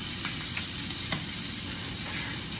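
Chicken for soft tacos fries in a pan, a loud, close, unbroken sizzle with faint crackles and light stirring underneath. No voices.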